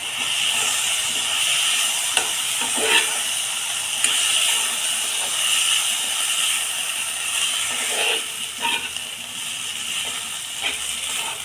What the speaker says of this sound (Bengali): এভাবে নেড়ে নেড়ে জলটা শুকিয়ে নিতে হবে